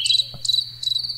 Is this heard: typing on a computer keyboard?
no